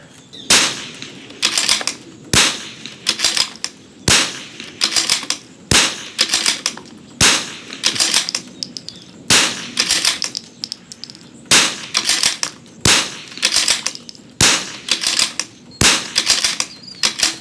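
Sharp, close rimfire rifle shots using Eley ammunition crack out one at a time at a steady pace of about one every second and a half, ten shots in all, with faint handling noise between them and no talking.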